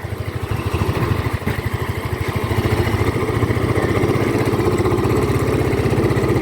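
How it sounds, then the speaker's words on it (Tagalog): A Yamaha Mio i 125 scooter engine with a weak-pulling fault runs close by, with a steady rapid chugging throb that holds loud and even throughout. "yung tunog ng makina ng motor natin guys starting is parang naka tercera siya"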